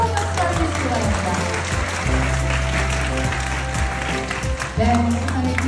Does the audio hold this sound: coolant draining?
no